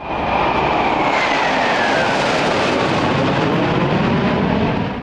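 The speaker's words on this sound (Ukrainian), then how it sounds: "прощання з Ігорем Хмарою та Іллею Негаром в небі над Вінницею пролетіли бойові літаки." Military combat jets flying over the city of Vinnytsia at a memorial for fallen pilots, a loud continuous engine roar with a slowly shifting pitch that fills the whole stretch before cutting off.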